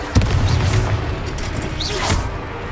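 A Confringo blasting spell goes off in Hogwarts Legacy, a sharp booming blast near the start followed by rumbling crackle, with more combat bursts amid the game's battle noise.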